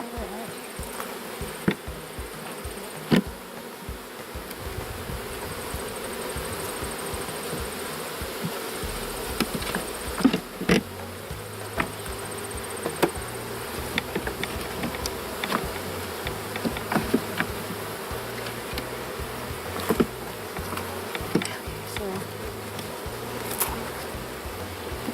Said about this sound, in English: Yeah, because the bees that are coming and going, they don't belong to this hive.